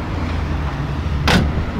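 An original classic Holden Torana car door shuts with a single solid thump near the end, close by, over a low background hum.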